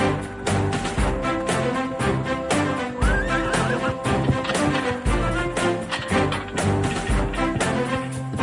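A horse in an animated series neighs, its whinny rising above a busy rhythmic background of thumping beats and clopping.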